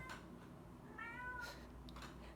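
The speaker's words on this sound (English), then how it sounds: "We have kittens." A kitten meows once, a thin, rising-and-falling cry heard faintly over steady low background hum in a room at home.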